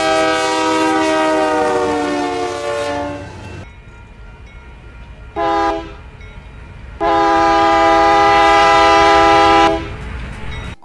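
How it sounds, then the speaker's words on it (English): The UP6706 locomotive horn in a Roblox train game sounds loud and close as a multi-chime blast, held for several seconds, then a short toot and another long blast, with train rumble beneath. "Honestly, UP6706's horn is almost as accurate as the real UP6706."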